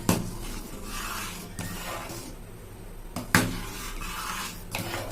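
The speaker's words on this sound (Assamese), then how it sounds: "এনেকৈ লাৰিয়ে থাকিব।" A spoon scrapes and rubs along the inside of a pressure cooker while stirring payasam, a rice pudding, in repeated raspy strokes, with a couple of sharper knocks against the metal.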